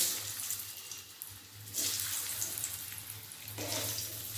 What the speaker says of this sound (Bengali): তেলের মধ্যে দিয়ে দেবো আলু